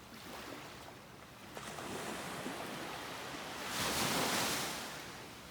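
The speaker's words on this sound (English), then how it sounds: "Just a nice surf, nice beach." Surf rolling onto a beach near the Finisterre lighthouse, a steady wash of breaking waves with wind noise, building to a louder crash late on, no talk.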